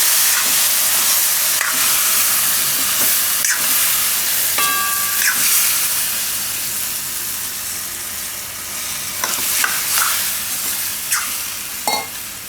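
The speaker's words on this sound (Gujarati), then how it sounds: "હવે એમાં થોડુંક પાણી નાખશું." Water poured into a hot pan of kantola (spiny gourd) curry on a full-flame gas stove sets off a steady steamy sizzle and hiss lasting throughout, with a few brief clinks and stirring scrapes over it.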